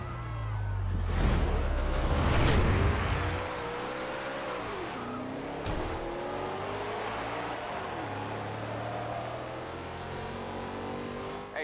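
Race cars in a Fast and Furious video game race roar and rev loudly, with tires squealing and engine pitch sweeping up and down as the cars accelerate and shift, a constant close engine drone throughout.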